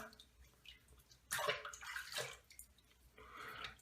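Water trickles and splashes in short bursts onto the face of a shaving brush, close by and quiet, with irregular drips between the louder pours.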